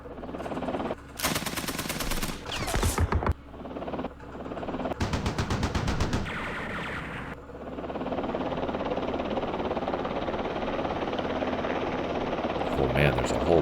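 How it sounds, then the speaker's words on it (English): Heavy automatic gunfire rakes anti-aircraft gun positions in a Vietnam War strategy game set during Lam Son 719. Two long, loud machine-gun bursts ring out over a droning helicopter engine, which continues alone afterward. "Let's do an attack against all these anti-aircraft guns."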